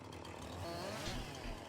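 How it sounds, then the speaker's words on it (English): A chainsaw buzzes steadily in a farming video game as it cuts, one continuous droning whine at an even level with no voices over it. "I bet if I took the chainsaw to it"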